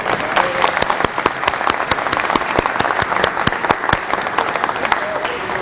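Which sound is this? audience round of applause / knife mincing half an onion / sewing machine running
audience round of applause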